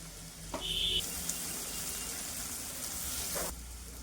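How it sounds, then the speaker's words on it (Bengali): Chopped tomato and carrot frying in a pan over medium-low heat, a steady close sizzle with faint stirring and scraping throughout, no talk. "এগুলো 2-3 মিনিট ভেজে নিই।"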